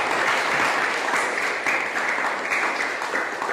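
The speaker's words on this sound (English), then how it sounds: "Just get around the applause, please." Steady audience applause after a talk by an abbot on marriage and monasticism, a dense wash of many hands clapping at even loudness throughout, with no voices over it.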